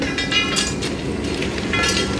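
A train leaving on the Howrah to Ranchi run gives a steady broadband rumble and rush, close and fairly loud, with faint rail clatter throughout and no speech.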